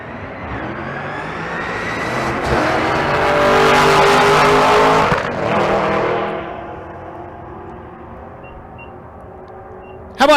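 Drag race between a 2004 Terminator Cobra Mustang and a 2014 Camaro at Bandimere: loud, roaring engines building to a peak, a brief shift gap, then the pair fading quickly into the distance, a short burst near the end.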